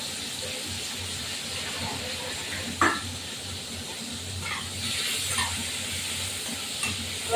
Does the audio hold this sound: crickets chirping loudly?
no